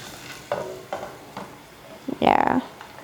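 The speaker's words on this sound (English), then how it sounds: "We're going to roast them for 2 minutes, 3 minutes or so, till they start turning brownish in color or golden." Egg curry ingredients roasting in a pan while being stirred, a soft sizzle broken by several scraping strokes and a louder burst of frying near the end.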